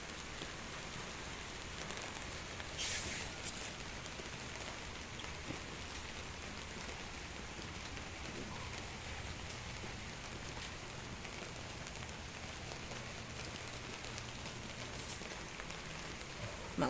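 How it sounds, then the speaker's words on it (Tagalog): Steady rain falling on a wet morning after a night of rain, an even, constant hiss of drops on surfaces that stays at a moderate level throughout with no talk over it. "Maulan na umaga."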